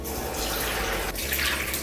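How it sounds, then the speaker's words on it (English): Warm water pours steadily into a bowl for Chinese pork bun dough, a continuous close splashing stream with a brief break partway through. "Add 3/4 cups of warm water."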